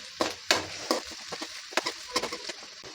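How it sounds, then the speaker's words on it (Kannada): Onions fry in butter in a pan with a soft background sizzle, punctuated by several irregular scraping and stirring clatters, fairly quiet and close. "ಈರುಳ್ಳಿ ಹಾಕ್ಕೊಂತ ಇದ್ದೀನಿ ನೋಡಿ ಫ್ರೈ ಆಗ್ತಾ ಇದೆ"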